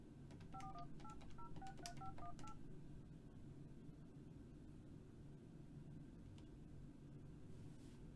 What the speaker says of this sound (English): Yes, I'll make a phone call from the desk here.